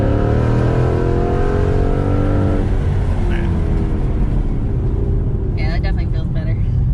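A car accelerating out of a corner on a track, its engine climbing through a steady rising drone, loud and close, with some wind noise and a voice talking partway through.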